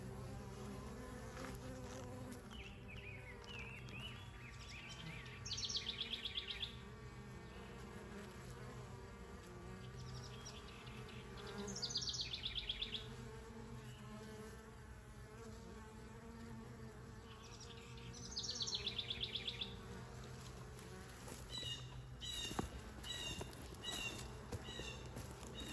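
Honeybees buzz steadily around an open 20-frame horizontal Layens hive during an inspection, a close, continuous insect drone with a few louder buzzing swells as bees fly near.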